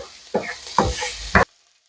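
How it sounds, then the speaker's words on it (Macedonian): Sauce for chicken sizzles in a pan as it is stirred in three short scraping bursts, each a brief crackling swish, before the sound cuts off to near silence. "И оставете да се пржи околу 3 до 4 минути"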